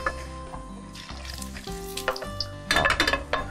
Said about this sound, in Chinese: 稍微先爆香一下这个姜末